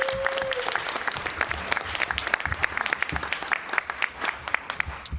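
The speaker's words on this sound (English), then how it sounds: "Let's give Dan another round of applause." Sustained applause from a convention audience at a national board meeting, steady dense clapping for about five seconds with a brief tone near the start, no talking over it.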